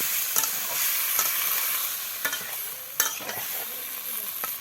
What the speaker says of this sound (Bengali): শিম আর আলুগুলো ভালো করে কষিয়ে নিচ্ছে।